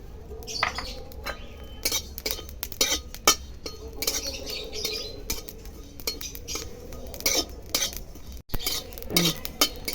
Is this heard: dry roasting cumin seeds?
yes